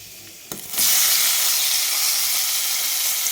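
Brinjal pieces with dry red chilli, masala, curry leaves and turmeric hit a hot pan for curry, bursting into a loud, steady sizzle after a brief quieter start, continuing close and unbroken with no talking.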